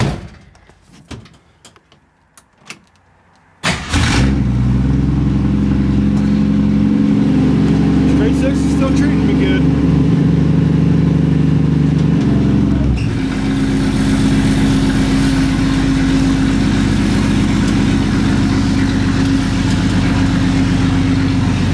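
An older car's engine cranks and catches after some clicks and clunks, then settles into a loud, steady idle that drops slightly in pitch and keeps running close by.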